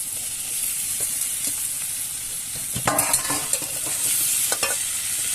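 Crab pieces and potatoes fry with garlic paste in a pan in the Sundarbans, a steady close sizzle running throughout while a utensil stirs and scrapes in several sharp clinks, loudest near the middle.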